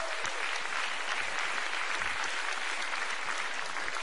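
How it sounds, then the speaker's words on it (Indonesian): Audience at the Indonesian MPR building gives sustained, dense applause, a steady wash of many hands clapping at even loudness from start to finish with no talk over it. "Kita berikan tepuk tangan."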